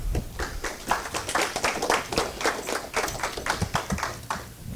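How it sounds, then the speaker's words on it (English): A crowd claps in quick, irregular bursts, a short round of applause at moderate distance with no talking. "y'all give them another round of applause"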